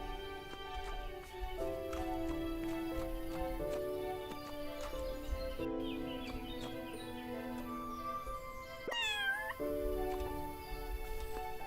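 A cat in the video game Everdream Valley meows repeatedly over steady game music, several distinct mews spaced across the stretch with a bird-like chirp near the end.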